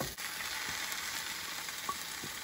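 Minced pork hits a pan of golden-brown frying shallot and garlic, giving a steady, close sizzle with faint scraping and stirring ticks throughout.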